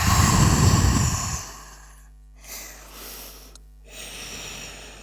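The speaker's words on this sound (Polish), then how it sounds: "Weźmy wdech przez nos i głośny wydech przez usta." A loud, breathy exhale follows an inhale, then fades into quiet with a few soft breaths afterward.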